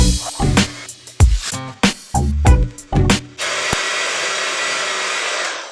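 An electric mixer creams room-temperature butter with coconut sugar, starting in short whirring bursts and then running as a steady, loud drone to the end.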